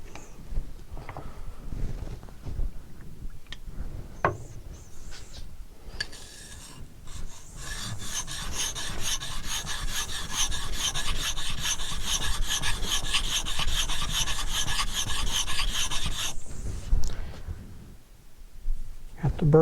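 A blade's convex bevel is worked on a feinstone sharpening stone, first in short scattered strokes, then a long run of steady rhythmic rasping that stops abruptly near the end, with a voice speaking intermittently.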